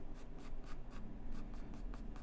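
A pencil scratches across paper during a portrait drawing in quick, rhythmic strokes, close and steady, with soft hatching sounds repeating about every quarter second.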